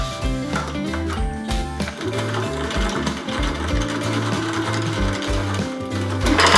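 A sewing machine runs steadily along a dress bodice seam, a continuous mechanical whir with a rhythmic, slightly clattering pulse, fairly loud and without speech.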